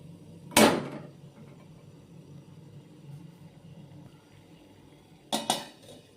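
Gram flour balls set into a steamer pot, giving two brief metallic clanks of pot and utensil, one near the start and one toward the end, separated by a quiet kitchen hum.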